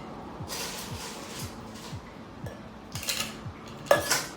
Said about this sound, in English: Of course you know we gotta fill it with some ice